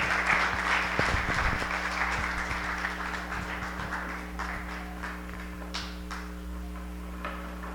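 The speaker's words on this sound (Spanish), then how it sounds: "les demos un fuerte aplauso de bienvenida" A church audience gives a warm welcoming round of applause, a steady wash of clapping that slowly thins out, with a low steady hum running underneath.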